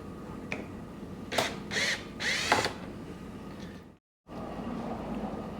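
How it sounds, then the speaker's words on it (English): A cordless power drill whirs in a few short bursts as it backs a screw out of a supercar interior panel, loud and close, with brief pauses between pulls and a moment of near silence afterward. "Another screw right there. Let's get that screw out too."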